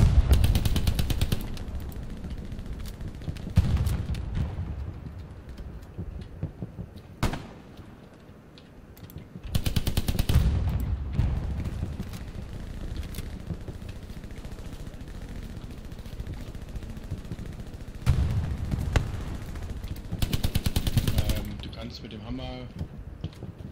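Bursts of rapid gunfire in the video game Hell Let Loose crackle in several separate volleys, loud against a steady low background rumble, with pauses of quieter ambience between them.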